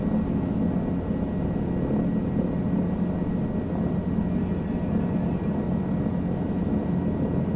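A helicopter taking off in Microsoft Flight Simulator 2020 produces a steady, loud, low rotor and engine drone that stays even and continuous throughout, with no talking.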